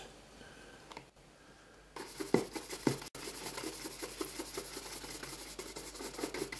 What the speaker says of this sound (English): so what we're doing now is just in the final stage of buffing off